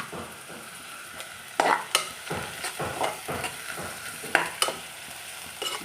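Curry leaves fry in hot oil for a mutton gravy, a low sizzle broken by repeated scraping stirs of a spatula against the pan, close and fairly quiet, with no voices.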